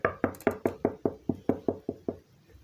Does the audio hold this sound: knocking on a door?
yes